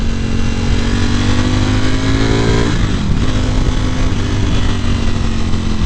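A 2018 Ducati Panigale V4 pulls hard in fourth gear, its engine note climbing loud and close, dipping briefly at a shift before surging again with steady wind roar and no talking.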